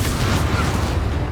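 A Confringo blasting spell in the video game Hogwarts Legacy lets off a loud, short, rumbling explosion that fills the brief moment.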